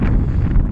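Loud, buffeting wind rumbles against the microphone outdoors on a cold winter wild camp in open country, a continuous blustery roar with no voices.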